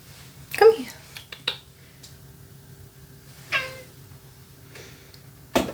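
A house cat meowing indoors, two or three short distinct meows spaced a few seconds apart, close and moderately loud against a quiet room hum, with brief other sounds between.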